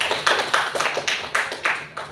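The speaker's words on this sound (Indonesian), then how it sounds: "tepuk tangan dulu buat Fani." Classroom of students clapping for a classmate named Fani, a close, uneven patter of handclaps with distinct louder bursts roughly every quarter second, no talking.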